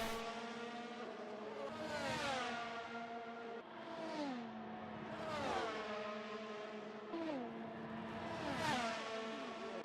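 Formula 1 race cars in F1 22 at the Saudi Arabian Grand Prix scream past in repeated high-revving surges, engine pitch rising and dropping through gear changes, loud and close with no talk.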